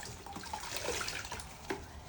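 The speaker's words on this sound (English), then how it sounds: "Give this one a bit of a wash up." A plaster mould is rinsed under running water to clear debris from its crevices, giving a steady splashing rush with small irregular spatters and gurgles.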